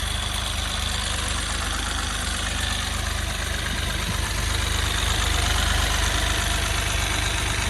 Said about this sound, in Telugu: సింగిల్ సెల్ఫ్ అయితే స్టార్ట్ అవుతుందండి బండి